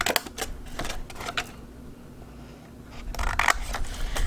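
Sharp scissors snip through paper in a few quick crisp cuts, then a quiet pause before another cluster of close snips while trimming a small square corner for a handmade mini album.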